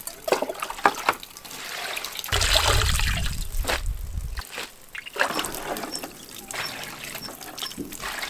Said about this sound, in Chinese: 把摘好了的折耳根仔细给它清洗干净